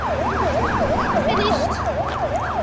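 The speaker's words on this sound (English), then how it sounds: "An ambulance arrives so Jim can be treated in private" An ambulance siren wails in a steady, repeating rise and fall, loud and close over a constant road rumble.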